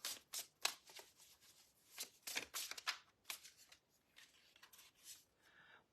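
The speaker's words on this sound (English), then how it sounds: "We're gonna shuffle up here for Dina." Tarot cards are shuffled up close in soft, quick riffling bursts, repeated several times with short pauses, fairly quiet.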